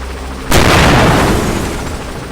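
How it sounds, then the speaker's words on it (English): A grenade explodes in a first-person shooter game, one loud, sudden boom that fills the sound and then rumbles and fades slowly over about two seconds, with no talk. "Grenade!"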